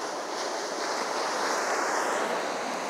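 Ocean waves at Santa Cruz, California, a steady broadband wash of surf that stays loud and even throughout, with some wind noise mixed in.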